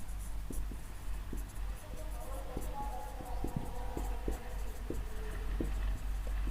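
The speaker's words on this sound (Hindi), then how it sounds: "आप ऐसे लिखेंगे" A pen writes by hand on paper, leaving faint scratchy strokes and small taps close by over a steady low background hum.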